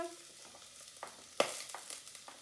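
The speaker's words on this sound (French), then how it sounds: "Là, je vais faire venir l'oignon. Je mets l'oignon dans la marmite" Onion goes into a hot pot for a Thai coconut-lemongrass soup, giving a sudden close sizzle followed by a softer crackling and stirring clatter that fades over a couple of seconds.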